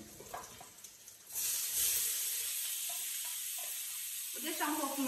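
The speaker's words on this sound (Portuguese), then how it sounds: "Aí eu tô fritando aqui a calabresa." Calabresa sausage with garlic and onion sizzles in a pan, a steady loud frying hiss that swells suddenly and holds, with a voice speaking faintly near the end.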